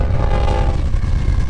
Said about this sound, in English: Comment below if you think we should let Skeeter hop this train.